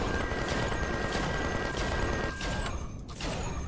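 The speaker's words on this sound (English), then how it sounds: "Let's see if those turrets are still shooting at me." Turrets in Empyrion fire steadily in a dense, crackling barrage, loud and continuous with a sustained tone running underneath, briefly thinning near the end.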